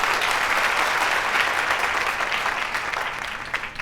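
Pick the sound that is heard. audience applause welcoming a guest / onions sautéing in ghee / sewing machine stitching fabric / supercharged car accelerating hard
audience applause welcoming a guest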